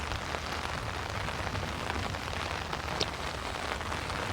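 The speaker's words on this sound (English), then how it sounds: "Pouring down rain" Heavy rain pours down steadily over a drained former field during a stormy spell, a dense continuous hiss of drops hitting the ground, close and unbroken, with no voices.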